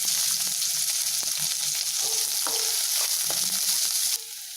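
Shallots, garlic, cinnamon, cloves, fennel and cumin sizzle in hot sesame oil in a pan for an egg gravy, with a steady crackling fry and scattered soft clinks of stirring throughout.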